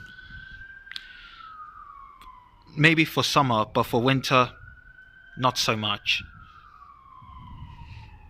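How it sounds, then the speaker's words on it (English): A distant emergency vehicle siren wails in a slow, steady rising and falling tone throughout near a railway station, while someone speaks briefly in the middle. "The sirens are making this noise right there"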